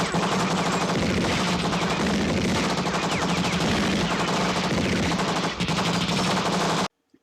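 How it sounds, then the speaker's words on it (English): Sustained gunfire from a 1987 action movie scene, dense rapid bursts of shots layered into a loud continuous barrage that runs steadily before cutting off abruptly. "where they're greeted by gunfire."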